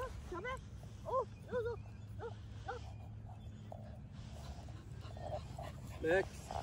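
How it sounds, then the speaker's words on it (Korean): A dog whimpers and yips in short, repeated high whines while playing with a ball on a school playground, the sounds moderately close over a background murmur of voices and outdoor noise. "맥스가 다른 강아지의 공을 가로챘습니다"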